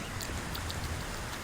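Cold rain falls in a steady, even hiss on an outdoor camping spot with tents, with no voices heard.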